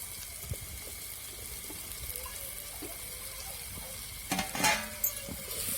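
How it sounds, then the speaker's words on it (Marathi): Soybean vada chunks frying in masala in a home kitchen pan, a soft steady sizzle with a few stirring scrapes and a louder burst of clatter near the end. "आपला सोयाबीन वडा जो आहे तो एकदम असा व्यवस्थित परातला गेला पाहिजे"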